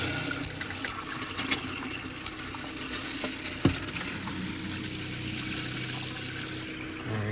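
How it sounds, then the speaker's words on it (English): Water rushes steadily through newly connected hot and cold supply lines as air is purged, a continuous splashing hiss with a few small sputters and pops from trapped air, close by and without talk. "I gotta get the water out of the hot and cold side here so I can get the air bubbles out"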